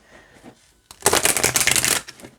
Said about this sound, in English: Oh yeah, look at that shuffle.